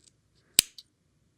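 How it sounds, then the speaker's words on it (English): Scissors or snips cut bracelet thread with one sharp crisp snip, followed by a fainter second click, close and otherwise quiet. "I'm going to take my snips or scissors and cut about 1/2 inch to 1 inch further"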